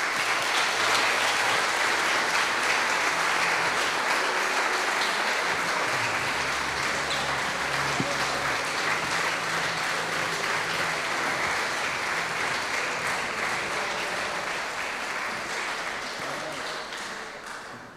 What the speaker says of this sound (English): please welcome onto court a big round of applause for this year's winner